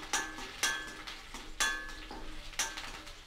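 Green chillies stirred in a pan while making spicy chilli idly, heard as four evenly spaced metallic clinks of a spatula against the pan with faint scraping between them and no talk.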